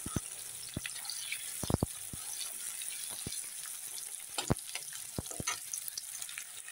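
Thin, long strips of medium potatoes frying in a pan, a soft sizzle broken by sharp spattering pops and clicks of a utensil, with no talking.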